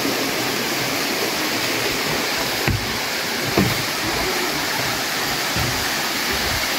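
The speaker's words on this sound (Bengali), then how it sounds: "ঝর্ণা অনেক উপর থেকে" The Erfelek Tatlıca waterfall in Sinop, Turkey pours steadily from high above, a loud, dense, unbroken roar of falling water with a couple of faint knocks in the foreground.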